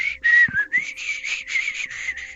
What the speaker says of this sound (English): I'm just standing off to the side of whistling and kicking the snow.